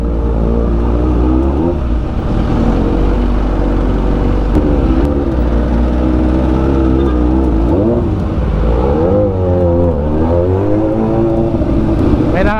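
A sports motorcycle rides through traffic in Dagupan, its engine droning loud and close throughout, with rising and falling revs and surrounding vehicle noise; a voice can be heard briefly over it.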